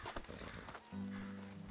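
Horse in Red Dead Redemption 2, heard near a camp: a few soft hoof clops, then a steady, droning snort-like tone that holds to the end, fairly close and clear with no talking over it.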